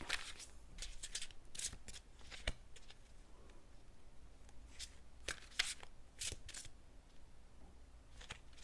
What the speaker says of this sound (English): I've already pre-shuffled all the cards, but I'm just going to give them another quick shuffle